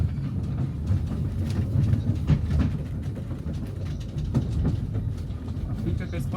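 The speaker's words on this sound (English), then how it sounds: "Pulled by a replica steam locomotive, often, and in our case the emblematic Camilla, the train chugs along at a leisurely pace" A train pulled by a replica steam locomotive rolls at a leisurely pace on a railway in Argentina, with steady low rumbling and rhythmic clickety-clack of the wheels on the rails.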